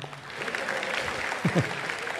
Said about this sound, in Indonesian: Tepuk tangan terlebih dahulu buat junior saya Judika.